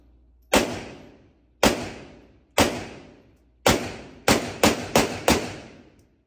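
Eight sharp, loud shots from a DS 1911 pistol, each followed by a short decaying echo, fired at uneven intervals with the last four coming in quick succession.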